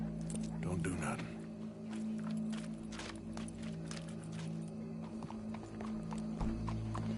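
Hooves clip-clop steadily as a horse walks in Red Dead Redemption 2, a soft rhythmic clatter with a low steady hum from the game underneath.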